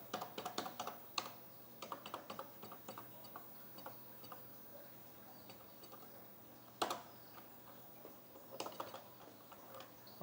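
Plastic keys on a Laser 310 home computer keyboard being struck while it is repaired for dead keys: irregular light clicks and taps, scattered singly and in short bursts, with a few sharper louder presses, at low level over a faint steady hum.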